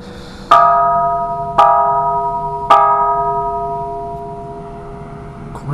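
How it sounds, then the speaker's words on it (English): Three loud bell strikes ring out a second apart in Mae Hong Son, Thailand, each leaving a long, clear, humming decay that fades slowly in a quiet setting. "The bells."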